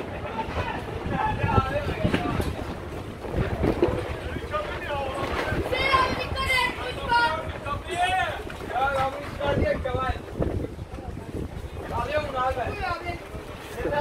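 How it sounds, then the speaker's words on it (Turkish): Strong wind gusting through an open-air street market in bad weather, a steady roaring rumble with buffeting bursts on the microphone, running throughout beneath several people talking over it. "Sesi duyuyor musun sesi? Rüzgarın sesini duyun bak."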